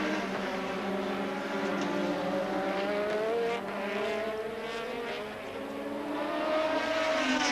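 Formula 1 race cars at the 1984 European Grand Prix, Renaults among them, pass through a chicane, their high-revving engines rising and falling as they go by one after another, loud and continuous.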